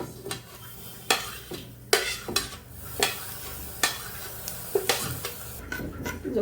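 Black cumin seeds dry-roasting in a pan, a quiet crackle under about a dozen distinct sharp scrapes and taps from a stirring utensil at an irregular rhythm, close and with no voices.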